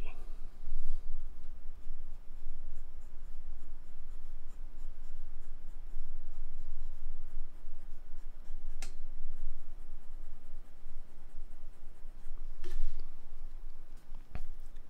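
A CLICK Renaissance fountain pen with a fine-tipped size 6 steel nib scratches across absorbent 120 gsm paper, giving a soft, continuous close-up scratching with a few sharper ticks and a faint murmur in the background.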